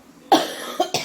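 A person coughs sharply several times in quick succession, close and fairly loud, with brief pauses between bursts; the cough developed over three days.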